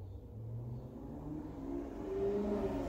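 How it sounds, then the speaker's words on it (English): A car passes outside, its engine a low, rising roar that swells louder toward the end, heard alone with no talk. "Sorry, it's a loud car again."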